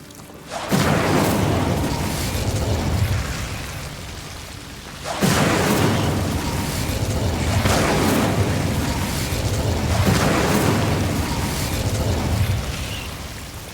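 Incendio fire spell bursts cast in the game Hogwarts Legacy, inside a mysterious cavern, three loud whooshing blasts a few seconds apart, each roaring on and fading into a sustained rumble.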